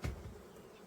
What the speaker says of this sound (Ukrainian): О, бджоли тут багато.